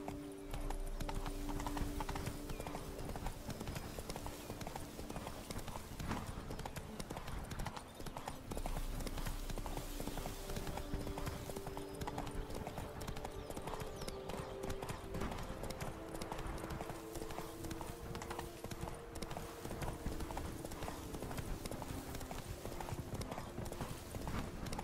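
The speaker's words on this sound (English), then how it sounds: "Run, Roach" Hooves of the horse galloping in the video game The Witcher 3: Blood and Wine, a fast, steady clip-clop rhythm running throughout over a busy, noisy background of game sound, with a brief whinny-like tone.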